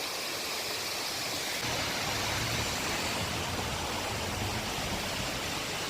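A waterfall swollen with heavy flow after a lot of rain roars as a steady, dense rush of water, with no voices.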